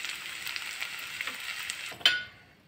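Masala spices frying in a pan for a Rayalaseema mutton curry, a soft, close sizzle for about two seconds that ends in a short clink and then silence.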